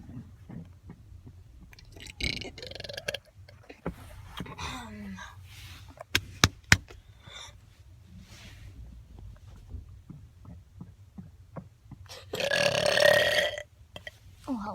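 A person lets out several loud burps, with a long, drawn-out belch near the end standing out above quieter sounds in between.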